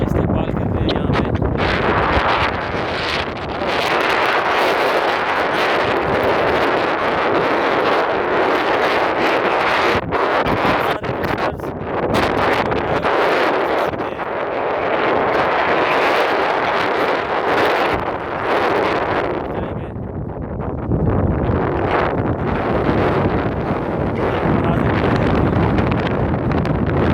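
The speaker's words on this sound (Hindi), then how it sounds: "ठंडी हवा चल रही है" Cold, strong wind at Babusar Top, snowy high mountain pass, roaring as a loud, continuous buffeting rush against the microphone throughout, with gusts swelling and dipping briefly.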